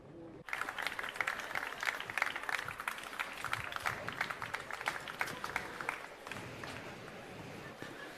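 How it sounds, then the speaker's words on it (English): Applause breaks out abruptly at a political festival as a speaker is invited to the stage, crisp individual claps layered into a lively, uneven crowd clatter that holds steady, then eases slightly toward the end. "A round of applause"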